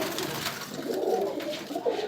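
Caged pigeons coo softly and continuously, a low murmuring warble that rises and falls close by with no talking over it.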